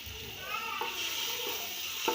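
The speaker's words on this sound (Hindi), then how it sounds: "अब ये जो हमारे मसाला लगे हुए अंडे हैं इसको हम इसमें डालकर फ्राई करेंगे।" Spiced eggs fry in about a tablespoon of oil in a pot, giving a steady, soft sizzle with faint crackles and a few light clinks.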